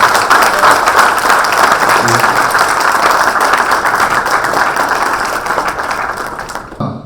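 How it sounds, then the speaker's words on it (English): Loud, dense audience applause at a technical live project competition, sustained for several seconds before tapering and cutting off abruptly near the end. "Please give a round of applause"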